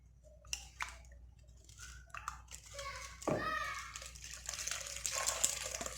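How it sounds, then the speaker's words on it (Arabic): Milk is poured into a cake batter mixture, a soft liquid splash and trickle building up near the middle and end, while a child and an adult talk close by. "وغادي نزيد الحليب"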